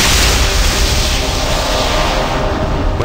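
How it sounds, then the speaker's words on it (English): In the Icewind Dale video game, an explosion of blinding light engulfs a cave as a loud, sustained roaring blast of noise that fills about three seconds and fades slightly at the end. "Suddenly, the entire cave was engulfed in an explosion of blinding light."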